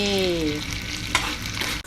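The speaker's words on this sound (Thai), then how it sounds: "เชิญใบมะกรูดลงกระทะปั๊บปั๊บปั๊บ" Kaffir lime leaves hit a hot wok of stir-fried red curry paste with crispy fried salmon head, giving a continuous close sizzle with a brief clatter near the end.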